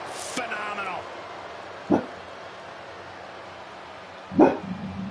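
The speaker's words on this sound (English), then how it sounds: "Dog, be quiet." A pet dog barks indoors beside someone streaming a wrestling video game, two short sharp barks a couple of seconds apart over a steady low hum, with a brief noise burst at the start.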